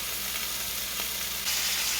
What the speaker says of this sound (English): You hear that sizzling? That means it's cooking.